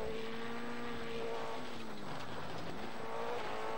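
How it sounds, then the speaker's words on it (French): Steady droning rally car engine in the PS2 game WRC1, with shifting pitch as gears change, a continuous mechanical roar with no voices. "le bruit de la motorisation n'est pas la même en fonction de la bagnole"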